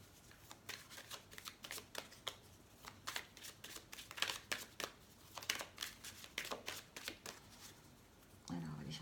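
Tarot cards being shuffled by hand, a run of quick crisp riffles and flutters up close, with a brief rustle near the end.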